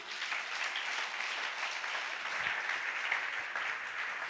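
A church congregation applauds steadily, a dense, even wash of many hands clapping together at moderate distance, sustained without pause and with no talk over it.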